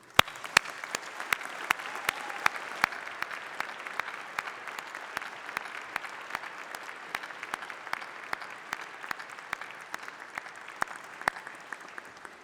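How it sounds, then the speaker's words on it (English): Graduation ceremony audience giving a sustained round of applause, dense steady clapping from a large crowd filling the hall throughout, with a few sharper individual claps standing out. "let's have a massive round of applause for all those special people"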